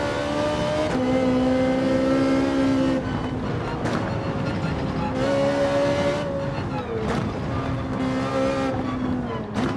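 Lamborghini GT3 race car engine in the Gran Turismo 7 video game, a loud, continuous high-pitched whine that rises through the gears and drops at each shift, with a muffled voice faintly underneath.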